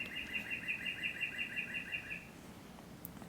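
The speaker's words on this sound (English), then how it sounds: "Can you hear the birds?" A bird sings a quick repeated trilling phrase for about two seconds, fairly faint against a quiet outdoor background.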